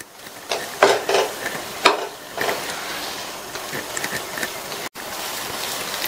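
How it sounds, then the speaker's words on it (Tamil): Idli batter ingredients are stirred and mixed in a pan, giving soft scraping and clattering strokes in short irregular bursts over a faint, steady background hiss. "இதை 2 நிமிஷத்துக்கு நல்லா மிக்ஸ் பண்ணி விட்டுக்கலாம்."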